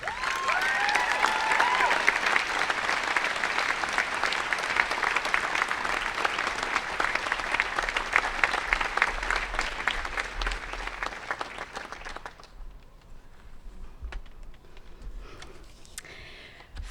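An audience at a university commencement ceremony applauds steadily and loudly for a graduating student speaker, the dense clapping sustained for about twelve seconds before fading into scattered claps and quiet room noise.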